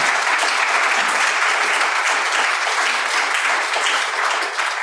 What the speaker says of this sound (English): I feel like a round of applause is due.